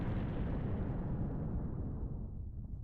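A deep explosion in the video game Fate/Grand Order roars out as one heavy, sustained rumble that fills the low end and slowly fades at the close, loud and without speech.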